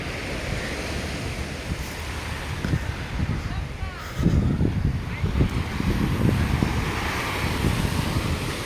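Ocean surf washes onto a beach in continuous rolling waves, with wind buffeting the microphone and a louder surge midway; someone talks briefly over the water.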